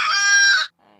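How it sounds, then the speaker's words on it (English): A rooster crows loudly and close, one full cock-a-doodle-doo lasting most of a second before cutting off, followed by a brief word from a man. "could you hear that, Rooster?"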